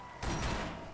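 A single sharp gunshot bursts out with a broad, booming crack that lingers briefly, loud and close, from the video game Borderlands.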